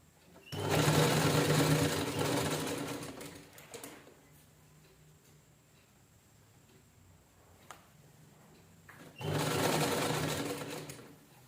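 A sewing machine stitches piping (gota trim) onto the neckline of a blouse, running in two close, steady bursts of whirring stitches separated by a quiet pause.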